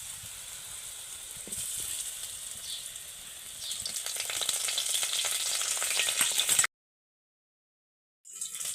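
Okra (bhindi) shallow-frying in a little hot oil in a wok over a low flame, a steady bright crackling sizzle that swells midway, then cuts to silence briefly before resuming.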